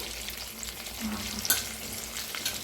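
Chili peppers fry in a hot pan with a continuous close sizzle, punctuated by scraping stirs and a brief louder clink of the utensil.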